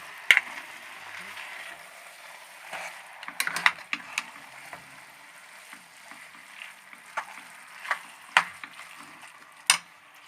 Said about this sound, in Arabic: نقلبوها باش داك لاصوص كله ياخد تخلط مع بعضياتو.